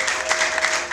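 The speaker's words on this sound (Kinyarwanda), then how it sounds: "reka namwe mwikomera amashyi menshi cyane" A church congregation breaking into brief applause, a dense, steady burst of many hands clapping at close range for about a second.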